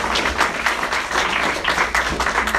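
A church congregation applauds together in a steady, dense wash of clapping lasting the whole moment, fairly close and loud, with no pauses.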